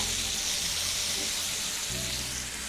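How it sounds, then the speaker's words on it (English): Pot roast beef sears in a hot pan with a loud, continuous sizzle and spatter, close up and uninterrupted by talk. "Nice little cheeky sear."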